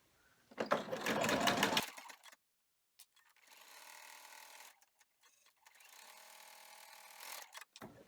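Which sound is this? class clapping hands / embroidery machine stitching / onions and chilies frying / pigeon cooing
embroidery machine stitching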